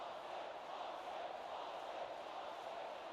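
A rugby league crowd in a Newcastle Knights versus Penrith Panthers video game match roars as a steady, distant wash of massed voices, faint and unbroken throughout.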